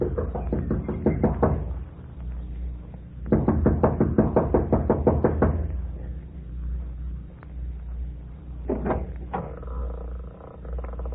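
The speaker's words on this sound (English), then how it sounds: "She knocks impatiently, looking about anxiously." Someone knocks impatiently on the front door of a lodge in rapid bursts of raps. A long flurry comes first, then another, then a brief final knock, all close and loud against a low background rumble.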